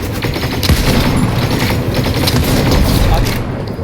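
DMR rifle gunfire from the Fortnite video game forms a dense, loud, continuous barrage of overlapping shots and booms, with players' voices talking over the game sound.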